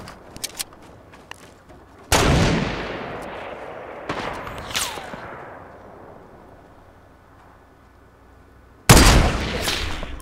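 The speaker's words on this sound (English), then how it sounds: "I think this guy's just poking and firing every time." Loud bursts of gunfire from the Fortnite battle royale game, including a new submachine gun, with several sharp cracks, long decaying booms and a final heavy volley, close and without talk.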